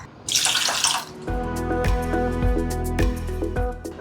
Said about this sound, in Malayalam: ഇതിപ്പോൾ 1 കപ്പ് വെള്ളം ഒഴിച്ചു.